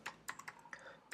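Close, quiet keystrokes on a computer keyboard while entering commands in a terminal, with a quick irregular run of about eight clicks over a second and no talk.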